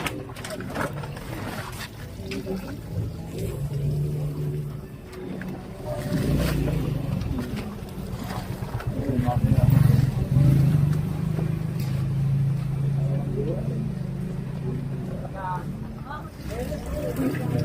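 The engine of a drain declogging unit runs during canal clearing in a Manila barangay street, a strong, near rumble that swells and eases, with people talking over it.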